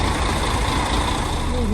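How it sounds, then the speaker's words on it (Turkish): A city bus pulls up at a stop with a loud, close diesel rumble and a brief hiss of air brakes. "Evet gelmiş otobüs hadi bakalım."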